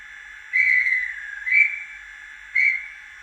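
Model sound decoder fitted to LNER No. 63 800 locomotive giving a shrill steam whistle in three blasts, a long one, a shorter one and a brief final toot, clear and alone over near silence.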